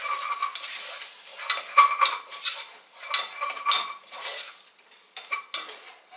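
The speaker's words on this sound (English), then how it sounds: "Also put in some minced onions, and I'm just gonna give this a good stir." A spoon stirring a spice mix with minced onions in a bowl, producing irregular close scraping and clinking strokes in short bursts, with no talking.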